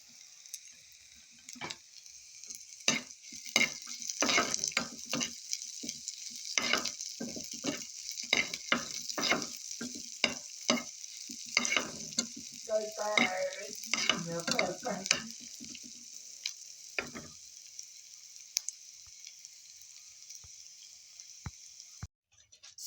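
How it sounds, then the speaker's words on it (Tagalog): Sliced onions and garlic sauté in a hot pan for fried rice, giving a steady bright sizzle broken by repeated scraping and stirring clicks that thin out and stop near the end. "I saute slices of onions. And then I have to put also garlics."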